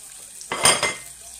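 Chicken breast sautéing in a hot pan, a brief burst of sizzle and clatter rising for about half a second and then settling back to a low background hiss.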